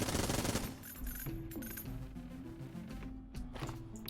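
A Vulcan cannon firing in the video game Enter the Gungeon: a dense burst of automatic gunfire that peaks in the first half-second, then continues as a steady chatter under game music.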